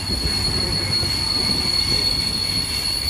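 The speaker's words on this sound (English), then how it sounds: "A long train as well, isn't it?" A long train, loaded with timber, rolls past with wheels squealing at a steady high pitch over continuous rumbling rail noise, loud and close throughout.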